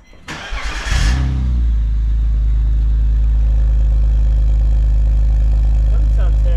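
A BMW ZHP starts up with its resonator removed and a modified muffler, a short cranking burst catching into a loud, deep, steady exhaust idle close by, with a voice briefly heard over it.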